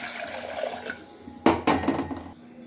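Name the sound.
water and soaked rice added to pressure cooker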